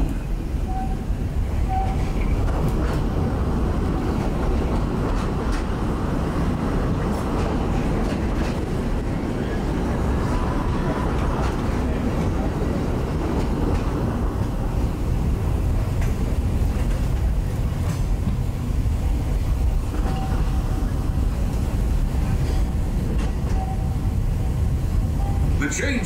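A mine train roller coaster at Magic Kingdom, Walt Disney World, rumbles and rattles steadily along its track, a heavy low roar with faint voices mixed underneath throughout.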